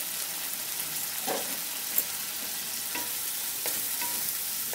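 Spice masala sautéing in oil in a pan for Bengali brinjal curry, a soft continuous sizzle with a few spaced scrapes of a spatula and one small clink, close and free of speech.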